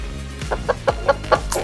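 A chicken clucks close by, about five short rhythmic clucks in quick succession over a low background hum.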